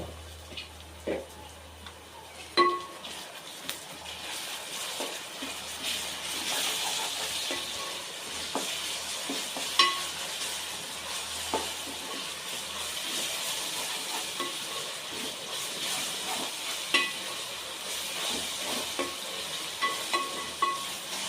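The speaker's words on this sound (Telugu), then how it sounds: "ఇప్పుడు ఆయిల్లో మంచిగా వేగింది అల్లం వెల్లుల్లి పేస్టు." Ginger garlic paste frying in oil in a pan for a country chicken curry, a continuous low sizzle with spoon stirring and occasional sharper scrapes against the pan.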